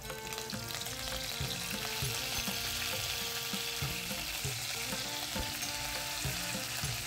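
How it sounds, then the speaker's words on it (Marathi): Spices, mustard seeds and curry leaves sizzle and crackle in hot oil for tempering on a low gas flame, a dense continuous frying hiss with scattered popping and stirring clicks. "आता मी हे वड्याला फोडणी देते."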